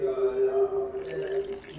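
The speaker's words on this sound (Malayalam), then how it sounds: "വെള്ളം ശംഖുപുഷ്പത്തിൻ്റെ വെള്ളം ഒഴിക്കുവാണ്" Butterfly pea flower water streams steadily into a mixing vessel for a brief stretch, a continuous close trickle holding one pitch before tapering off, with no voices.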